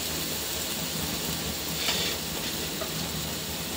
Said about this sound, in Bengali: রসুনটাও দিয়ে দেবো, একসাথে ভাজা হয়ে যাবে